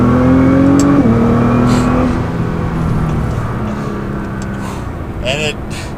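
A Nissan GT-R in race mode accelerates, its engine note climbing and shifting gears as it gathers speed, heard from inside the car with someone talking over it.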